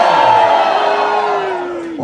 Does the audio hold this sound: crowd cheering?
yes